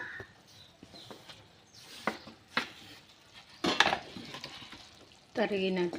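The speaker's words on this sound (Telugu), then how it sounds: "ఒక టమాటా వేస్తున్నాను" Chopped tomato tipped into a hot frying pan: scattered utensil clinks and scrapes, then a sharp burst of sizzle and clatter as the pieces land, with more pan noise near the end.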